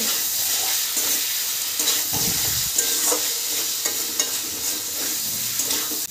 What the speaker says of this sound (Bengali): এবার ভেজে রাখা আলুগুলোকে দিয়ে ভালো করে একটু কষিয়ে নেব।